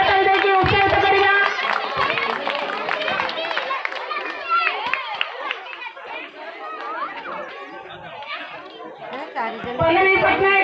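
Audience at a school prize-giving event clapping for a balloon-bursting winner, mixed with lively children's chatter and shouting; bursts of claps stand out near the start and end amid constant crowd noise.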